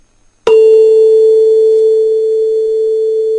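A tuning fork mounted on a wooden resonance box is struck once, giving a sudden attack and then a loud, pure, steady tone that rings on evenly with only slight fading.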